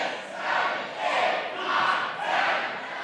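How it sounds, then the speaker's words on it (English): A wrestling crowd in an arena chants in unison, with four rhythmic swells of massed voices counting along to a pin, loud and filling the room. "And this crowd knows how to count."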